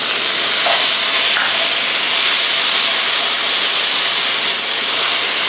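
Water poured into a hot pan of stir-fried pork belly with red curry paste and long beans erupts into a loud, steady hiss of steam and sizzle, continuous and close, with faint spoon taps early on.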